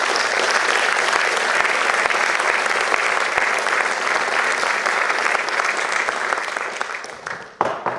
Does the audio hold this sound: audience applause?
yes